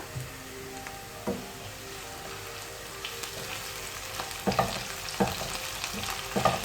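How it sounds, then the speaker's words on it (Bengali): Sliced onions fry in a pan with a spoonful of garlic paste stirred in, giving a steady, quiet sizzle with occasional scraping stirs that grow more frequent toward the end, and no voices. "পেঁয়াজটা আমার ভাজা হয়ে গেছে এখন আমি এর মধ্যে দিয়ে দিচ্ছি এক চা চামচ পরিমাণ রসুন বাটা"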